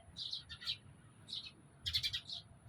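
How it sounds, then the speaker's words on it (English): Small birds chirp in short bright bursts at a beach beneath an arch, several quick calls in clusters, faint and fairly distant over a low background hum. "You can see a bird there, it's chirping, and many others"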